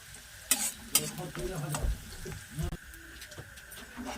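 Onion and garlic fry together for biryani, a soft sizzle broken by a few sharp spoon knocks and scrapes against the pot, close and fairly quiet.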